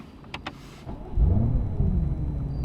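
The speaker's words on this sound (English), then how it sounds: "Now, coming to drive the BMW M8." A BMW M8 pulls away to start a drive: after a few brief clicks and a short whir, a loud, deep engine rumble rises and holds steady, heard from inside the cabin.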